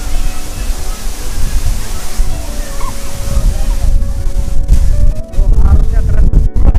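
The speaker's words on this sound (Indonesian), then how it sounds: "Belakang ini adalah air terjun Jumuk." Jumog waterfall in Karanganyar with a rushing river current, a loud, continuous close roar of falling and churning water, with people talking over it.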